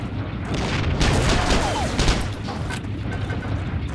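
Bursts of gunfire and explosive booms fill a World War II combat match in Heroes & Generals, loud and dense for the first couple of seconds before easing into a rumbling battle backdrop.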